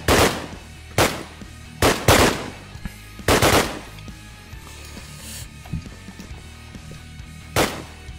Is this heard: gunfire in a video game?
yes